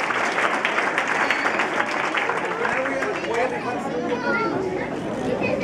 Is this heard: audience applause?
yes